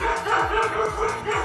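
Toy sound box plays an electronic dog bark, a few loud repeated woofs in quick succession over a steady background hum, with no talking.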